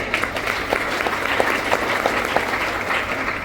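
An audience claps briefly at a networking marketing meeting, fairly steady applause lasting a few seconds with faint crowd noise underneath.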